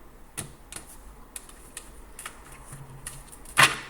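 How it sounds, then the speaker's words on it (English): A brand-new gilded tarot deck, slippery cards being cut by hand: a sparse series of light, crisp card clicks and taps, ending in a sharper snap. "Let me cut this deck."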